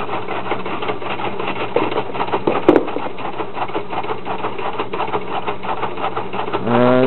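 A wood gas granular cutter machine with an eccentric and flywheel runs steadily, giving a continuous close rhythmic mechanical clatter with a brief louder knock partway through.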